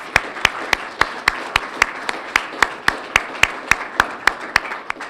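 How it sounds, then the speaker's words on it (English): Clapping at a public health event, heard as a steady, evenly spaced run of sharp claps, about four per second, fairly close and alone with no talk over it. "can we give them another round of applause?"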